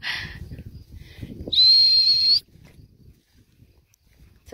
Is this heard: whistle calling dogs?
yes